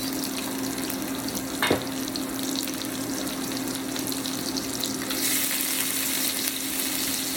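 Onions sizzle and fry in rendered bacon fat beside crispy bacon, a soft steady crackle with one sharp clink of a utensil partway through. The frying grows a little brighter and louder toward the end.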